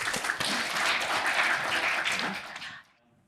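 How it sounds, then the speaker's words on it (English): An audience at a conference talk breaks into steady applause, a dense burst of clapping that holds for about two and a half seconds before fading out quickly. "Give him a round of applause."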